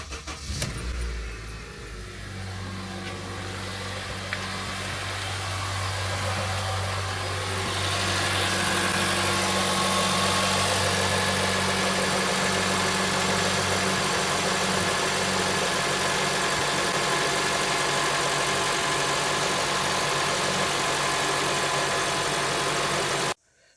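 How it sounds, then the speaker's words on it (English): 2007 Honda CR-V engine cold starting, a quick crank and catch, then a steady idle that settles after a few seconds and continues evenly, close and fairly loud, with no talking. "let's hear the cold starting sound after nearly 800 kilometers."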